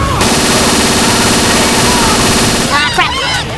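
Rapid, sustained automatic gunfire from Left 4 Dead 2 on the Parish level, loud and dense for nearly three seconds before it cuts off into chaotic in-game sounds and shouted voices.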